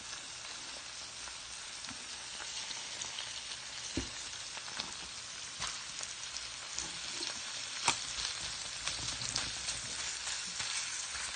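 Shrimp stir-frying with onions and garlic powder in a pan, a steady close sizzle with scattered pops and occasional stirring scrapes, no voices.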